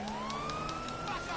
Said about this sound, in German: Oh, Krankenwagen!